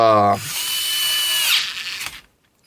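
A WORX WX242 4V lithium-ion electric screwdriver spins up with a loud, steady high-pitched motor whine, held for about two seconds before winding down and stopping.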